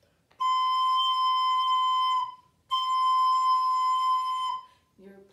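A recorder sounds two long sustained notes, each held about two seconds with a short gap between, clear and close, followed by a brief low thump.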